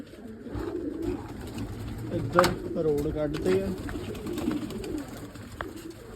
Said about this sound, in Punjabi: ਆ ਗਿਆ ਕਬੂਤਰ ਦਾਣੇ ਖਾਣ